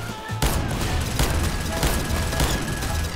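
Rapid gunfire in Garry's Mod during a boss battle against Evil Mario, a dense, loud volley of shots that runs continuously after a brief pause at the start, with no voices.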